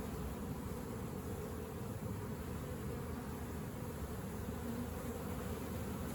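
Honey bees swarm around a swarm trap hive during a transfer, making a dense, steady buzz that holds close and unbroken throughout, with no voices.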